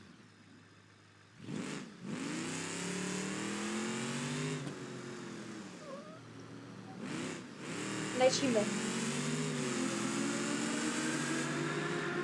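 A video game jeep engine drones and revs, pitch climbing and dropping, while someone talks over it in Polish and brief whooshing bursts cut in.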